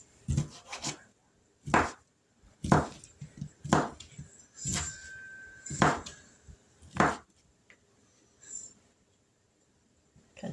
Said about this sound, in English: get this sausage cut up because we're going to cook it first